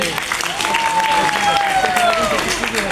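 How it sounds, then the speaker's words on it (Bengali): An audience claps together at an event in a steady, dense wash of applause that lasts the whole moment. A thin whistle-like tone rises and falls above it partway through. "আমি আমার হাজবেন্ডের জন্য আপনাদের প্রত্যেকের কাছে একটা করতালি চাচ্ছি।"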